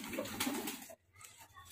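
Giribaz pigeons give soft, close coos in a short burst, with a brief pause and then quieter murmuring.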